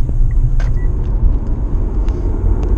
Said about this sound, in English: So the engine just kicked in.